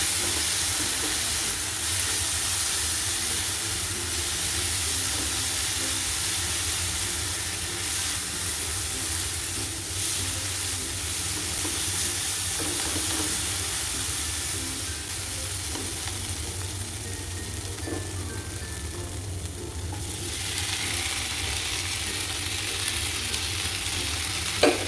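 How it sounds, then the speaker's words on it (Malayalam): Beef and masala frying in a pan for a Kerala-style beef dry fry: a continuous, fairly loud sizzle and hiss, with occasional scraping as the mixture is stirred, and no talk. "അപ്പോൾ ഈ ഒരു ബീഫും കൂടി നമുക്ക് ചേർത്ത് കൊടുത്ത് നന്നായിട്ടൊന്ന് മിക്സ് ചെയ്തെടുക്കാം"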